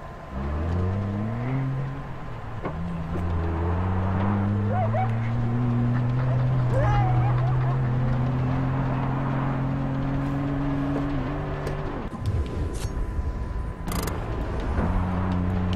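An in-game vehicle in Far Cry 4 drives with a steady engine drone whose pitch climbs and holds through several gear-like steps, running continuously and fairly loud with a brief rougher burst near the end.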